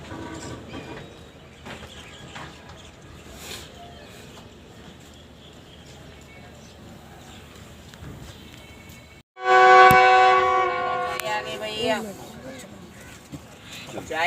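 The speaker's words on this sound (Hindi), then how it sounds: "रहीम यार खान का स्टेशन है ये।" A passenger train, the 33UP Pak Business Express on the Karachi to Lahore run, sits at Rahim Yar Khan railway station: a low, steady hum with station chatter gives way to a loud, sustained horn-like tonal blast near the end.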